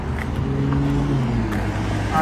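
A car passes on a road outside, a loud steady engine and tyre roar filling the whole moment at close range.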